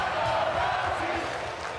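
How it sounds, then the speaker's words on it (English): An arena crowd roars steadily behind Ronda Rousey at a WWE 2K23 wrestling match, a dense sustained cheer with no breaks through the short moment. "You hear this crowd here tonight very much behind Ronda Rousey."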